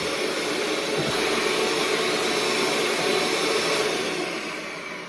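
Tiramisu cupcake mixture being whisked nonstop produces a loud, steady, close whirring drone that holds level for several seconds, then eases slightly at the end.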